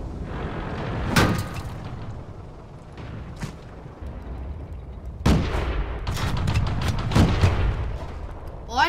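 Tank cannon shots from the World of Tanks video game boom out in a few heavy blasts with rumbling tails, scattered across the stretch under a continuous game background.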